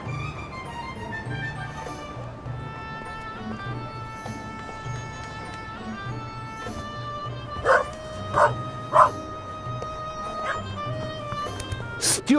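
Dog barks in The Raven Remastered, a few sharp yips and bow-wows over steady game music and ambience, with brief spoken dialogue nearby.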